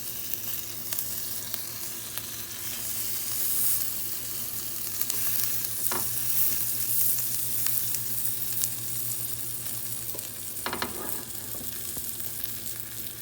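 A cheese-topped burger wrap sizzles steadily on a hot grill after being flipped, a continuous close frying hiss with occasional spatula scrapes and taps, and no one speaking.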